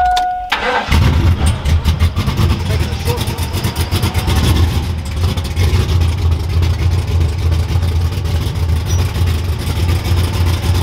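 A car with a swapped front end cranks briefly and fires up, then settles into a loud, steady rumbling idle close by; voices are faintly present.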